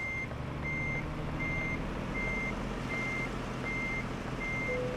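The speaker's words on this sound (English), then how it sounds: "So let's try and reverse this thing up." A heavy truck reverses in Euro Truck Simulator 2, its steady reversing beeper pulsing evenly over a constant low engine rumble, with no talking.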